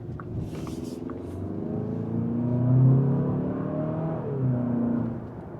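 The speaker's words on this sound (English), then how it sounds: "let's go ahead and see how this car feels when we take it down US 1 again" A 2027 Kia Telluride driven in normal mode along a US highway, its steady engine drone and road rumble rising gently as it accelerates, with tyre and wind noise under a continuous interior hum.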